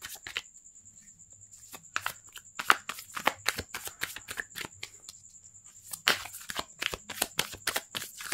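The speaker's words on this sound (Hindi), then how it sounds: "One more shuffle." Tarot cards shuffled by hand in a series of quick, crisp riffling bursts, close and fairly quiet, with a faint steady hum underneath.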